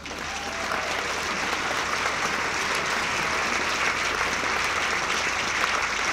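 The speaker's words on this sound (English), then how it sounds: "Applause, please, for Professor Alice Roberts." Sustained applause from a large audience at a science communication competition final, steady and dense clapping throughout with no voices standing out.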